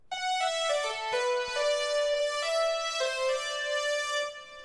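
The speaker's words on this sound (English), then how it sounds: "The first sound is a flute synth, which I made in Massive X." A flute synth patch built in Massive X plays a smooth sustained melody of several legato notes with a breathy, harmonically rich tone, loud and close with no other sounds.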